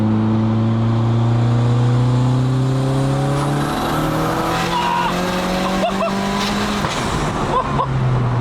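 Loud engine of a 550-horsepower Peugeot 306 rising in pitch under acceleration at 1.6 bar boost, then easing off with a sharp fluttering hiss and pops as the external wastegate vents underneath.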